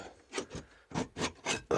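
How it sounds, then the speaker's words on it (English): A handheld hacksaw blade fitted with a handle cuts with short, rhythmic rasping strokes, about seven quick passes, close and fairly quiet. "It's just a hacksaw blade, but with a handle."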